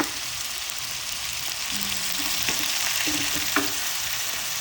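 Roasted chicken stirred in a pan with vinegar and soy sauce, a constant sizzling fry with occasional clinks and scrapes of the utensil, no one talking.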